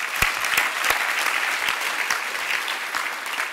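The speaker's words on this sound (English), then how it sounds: "that's worth an applause for sure" An audience at a community honoree award ceremony applauds, with crisp individual claps standing out sharply against a steady bed of clapping for a few seconds.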